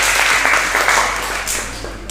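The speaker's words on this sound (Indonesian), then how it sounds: "Tepuk tangan dulu" Loud, close applause from a classroom group after a correct answer in a teacher's quiz, a brief dense burst of clapping.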